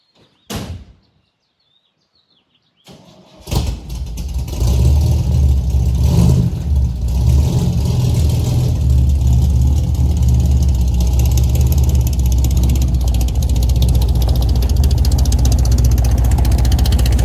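A Chevrolet C10 truck, being lowered at home, gives a short knock, then after a pause its engine catches and settles into a loud, close, steady low rumble that runs unbroken to the end.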